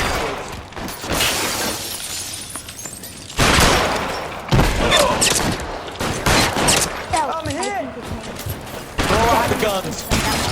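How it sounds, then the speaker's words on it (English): Gunfire in a gritty 1940s Los Angeles police shootout from the L.A. Noire video game: loud bursts of rapid shots and cracking impacts, with glass-like shattering and shouted voices mixed in. "Guns."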